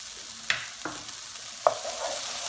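Chopped garlic added to softened onions fries gently over low heat in a pan, a soft steady sizzle broken by a few sharp utensil scrapes and clicks from stirring.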